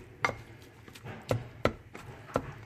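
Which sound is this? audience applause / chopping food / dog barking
chopping food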